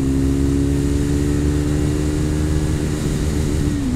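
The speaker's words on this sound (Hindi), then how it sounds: "तो यो फर्स्ट गियर एंगेज हो चुका है और देखते हैं बाइक कितना जाएगी हर गियर में।" A Triumph Speed 400 motorcycle accelerating through its gears, a loud, close, continuous engine drone whose pitch climbs steadily and then drops off as it shifts near the end.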